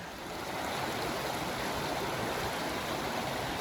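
Steady broadband rush of water pouring into a water mill at Spring Mill State Park on a snowy day, a loud continuous flow close by with no other sounds.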